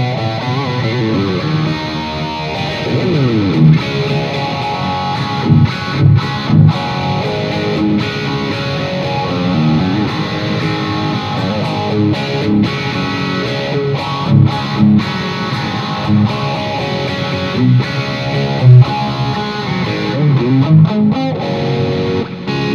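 An electric guitar is played through a phaser with no distortion or overdrive pedal. A steady stream of loud, sweeping riffs and runs plays alone throughout.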